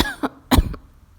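A voice imitates a story character's cough during a children's book reading, with two or three short, close, throaty coughs and then quiet.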